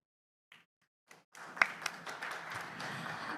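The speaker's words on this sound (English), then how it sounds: "Let's give him a big round of applause." Audience applause after a speech at a business forum, beginning with a few scattered claps, then swelling into steady, fairly faint clapping from a moderate crowd.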